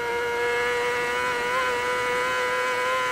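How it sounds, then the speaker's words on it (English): A racing motorcycle at full throttle in fifth gear on the Isle of Man TT course, heard from on the bike as a loud, sustained high engine whine with slight pitch wobbles over wind rush. "throttle absolutely flat out in fifth gear"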